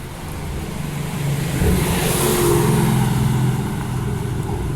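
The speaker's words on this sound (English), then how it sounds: "Here it comes now, the bus serving stop 11 for one of the last times ever." A Perth CAT city bus pulling in to stop 11, a broad engine roar and road rush that swells toward the middle and stays strong as it nears, with no voices.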